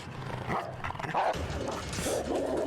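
Dog barking, several loud, overlapping barks and yips heard close up within a busy, dense mix of sound.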